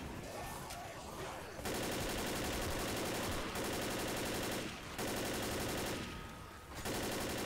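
Rapid, sustained automatic gunfire from the video game Left 4 Dead, heard as loud continuous bursts broken by a few brief pauses.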